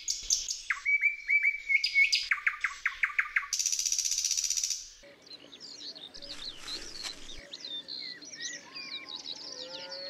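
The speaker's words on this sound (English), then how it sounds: "the nightingale." A nightingale sings in wetlands with shrub-overgrown duck holes, delivering rapid repeated whistles, trills and buzzy phrases close by, followed by a softer, varied warbling stretch, no voices.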